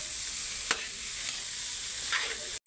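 Bamboo shoots being stirred into a cooking pot give a steady moist hiss with a sharp utensil scrape near the start and another light clatter later, alone and close.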